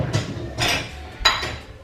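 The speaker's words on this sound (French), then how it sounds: "Faudrait que je vide le lave-vaisselle" Dishes are unloaded from a home dishwasher, a few separate bursts of clattering crockery and clinking cutlery at close range, with quiet handling in between.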